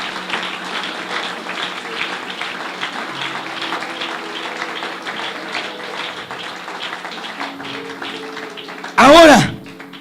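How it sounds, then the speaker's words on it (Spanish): A church congregation applauds God during a sermon, a dense, continuous patter of many hands at moderate distance beneath steady sustained tones, with a short, loud burst of voices near the end. "Si cree esto, dele un aplauso a Dios."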